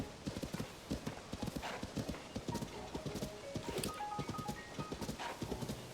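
Horse hooves clip-clop at a steady trotting rhythm in the video game Zelda: Tears of the Kingdom, with a brief whinny and soft game ambience behind the continuous hoofbeats.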